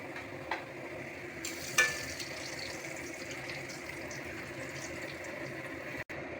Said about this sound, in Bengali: এবার একটু এটা ভাজা ভাজা হবে।